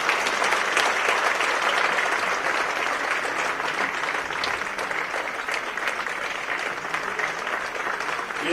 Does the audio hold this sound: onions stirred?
no